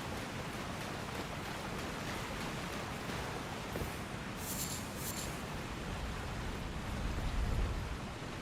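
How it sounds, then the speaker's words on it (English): A steady, full-band rushing wash of falling water from a waterfall in the video game Elden Ring, continuous and even throughout, with no clear voices over it. "Waterfall."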